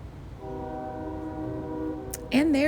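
A train horn blares in a long, steady multi-tone chord over low rumbling background noise, followed by a brief burst of other sound at the end.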